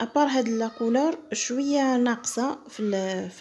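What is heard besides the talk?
None of the usual background noises is heard.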